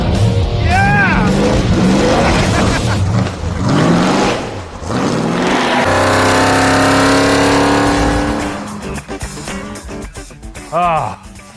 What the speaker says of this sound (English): Ice drag racing.